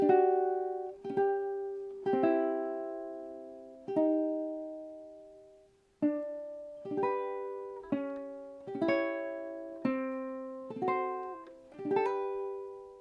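A ukulele picks out a gentle melody from a song in plucked notes and strummed chords, phrases ringing out and decaying in a steady rhythm, played alone and close.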